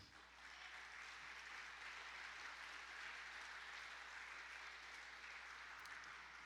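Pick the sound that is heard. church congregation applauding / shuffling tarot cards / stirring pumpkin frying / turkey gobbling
church congregation applauding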